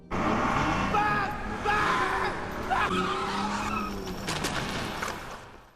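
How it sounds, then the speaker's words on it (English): A car tearing away at full speed in a movie scene, with loud tire squeal and skidding and a roaring engine that carries on steadily, layered with other film sound. "He gets in the car and races it at full speed"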